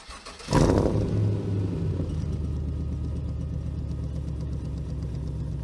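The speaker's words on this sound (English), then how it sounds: "I'll show you what a real V8 sounds like." A V8 car engine fires up with a sharp burst, then settles into a deep, loping idle rumble close by.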